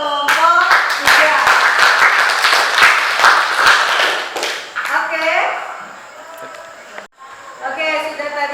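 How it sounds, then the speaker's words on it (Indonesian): A classroom group claps for a presenting team, with loud, close, rapid applause that fades out, while voices talk through and after it. "kita berikan dulu aplaus untuk kelompok 3"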